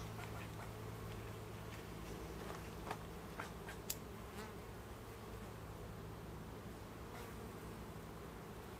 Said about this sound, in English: I plan on upsetting these bees quite a bit